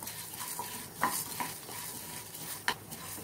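Chana dal and urad dal roast in a pan while a spoon stirs them, a soft continuous sizzle broken by scraping strokes and a few sharper knocks against the metal.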